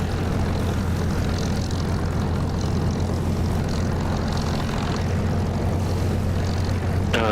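A propeller aircraft in the DCS flight simulator roars steadily at full power through its takeoff run, a loud continuous engine drone with a brief sharp electronic tone near the end.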